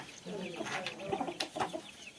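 A hen on a village farm clucks in a few short, soft bursts at close range, with faint background noise.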